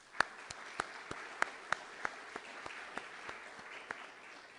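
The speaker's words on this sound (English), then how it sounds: "and a round of applause" At the SEAS Pelton engineering award ceremony in 2014, a small audience gives sparse applause: about a dozen distinct, crisp claps at an uneven pace over a low room murmur, fairly quiet and thin rather than a full ovation.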